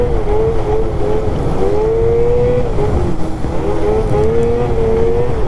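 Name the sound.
Catalyst 858 snowmobile engine while riding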